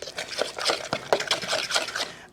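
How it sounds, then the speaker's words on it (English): Spoon stirring lasagna sauce with garlic powder in a pot, a close run of soft scraping and clinking strokes in uneven rhythm, moderately loud and alone. "We just gonna stir this up real good."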